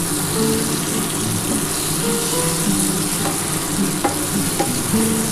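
Chunks of ash gourd fry in oil that has released its own water, a loud dense sizzle with a ladle scraping and stirring through it, a few clicks of metal on the pan, no talking.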